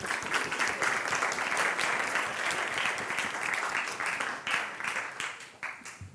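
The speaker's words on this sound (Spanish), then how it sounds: "Un aplauso, por favor, para ella." Audience applause at a conference keynote and panel session, many hands clapping in a dense, fairly loud burst that carries on steadily before thinning out near the end, with no speech over it.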